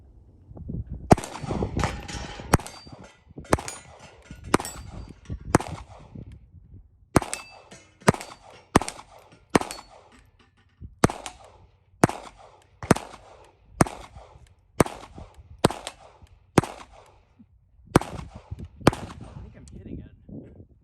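A SIG P322 pistol fires 36 and 40 grain rounds at an outdoor range, a long run of sharp, loud, evenly spaced shots cracking one after another with brief pauses between them.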